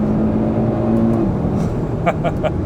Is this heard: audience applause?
no